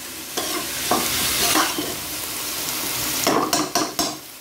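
Loud, steady sizzling of soya frying in pots, with a spoon stirring and scraping, and sharper clatters near the end.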